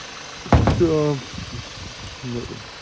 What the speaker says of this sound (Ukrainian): Мотор заводиться, машина їде